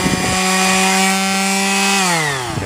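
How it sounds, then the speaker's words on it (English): A palm sander whines loudly against the wood of a new axe handle for a 100-year-old axe head, with a steady motor drone, then the pitch drops as the motor winds down near the end. "What I usually use is this, just a palm sander. They're quite loud."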